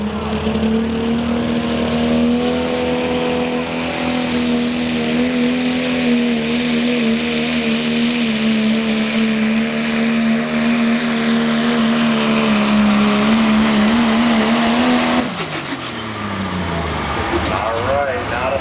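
Modified pulling truck called Living on the Edge, from Mountaintop, Pennsylvania, screaming at sustained high revs through a truck pull run, loud and close, then the engine note drops sharply near the end as it winds down.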